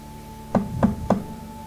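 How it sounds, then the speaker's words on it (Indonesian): Three evenly spaced knocks on a window pane, sharp and close, standing alone against a quiet steady background hum. "Terdengar suara ketukan di jendela."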